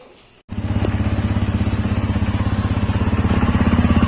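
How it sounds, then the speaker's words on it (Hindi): After a brief quiet moment, a Hero Splendor or TVS Radeon commuter motorcycle starts up and settles into a steady, close exhaust note, its single-cylinder engine thumping in an even rhythm without speech. "तो चलो पहले दोनों के एग्जॉस्ट नोट सुन लेते हैं।"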